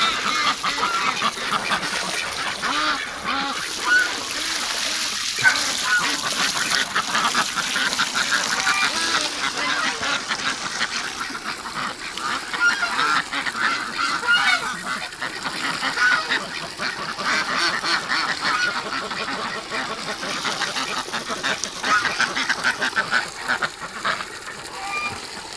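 Ducks in a winter pen with ice-covered ground quack and honk continuously and loudly, a dense overlapping flock chorus with no pauses.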